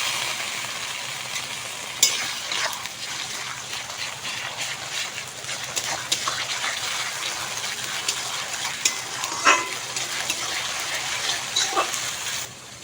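Ginger, garlic and cumin paste fries with onions in hot oil, a continuous close sizzle with occasional stirring scrapes throughout, no one speaking.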